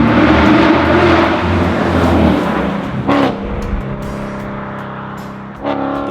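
A Ford Mustang GT 5.0L V8 with an XForce 3-inch stainless steel engine-back exhaust roars loudly, holding a deep throaty drone, then easing to a steadier rumble before a fresh rev near the end.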